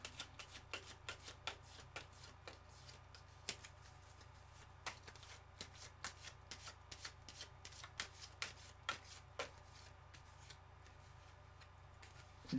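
Tarot cards being shuffled by hand, a steady run of soft, crisp riffles and snaps repeating close by with small pauses, alone with no talk over it.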